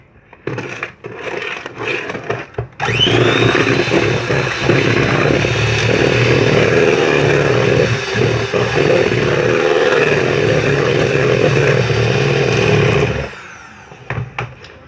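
Electric mixer whirring steadily through pudding batter for about ten seconds, a loud continuous motor drone that starts abruptly and cuts off near the end, with a few clatters before it.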